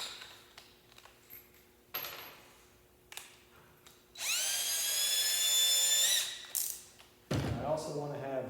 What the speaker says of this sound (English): So before I screw this in, I need to drill some pilot holes